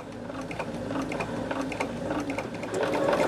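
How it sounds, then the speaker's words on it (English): A sewing machine stitches quilt pieces together, a fast steady mechanical whirring with a rapid rhythmic clatter, close and moderately loud throughout. "we're going to sew the first two together"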